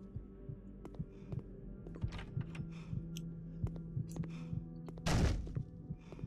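A heartbeat in the horror video game Statues thumps steadily at a regular pulse, low and dull, with a low hum and occasional clicks around it, then a brief louder burst near the end.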